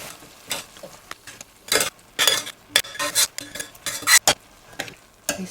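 A spoon stirs a spiced mixture into dry cooked urid dal with cashew nuts and peas in a pot, making sharp, irregular scrapes and clinks against the metal, close and loud.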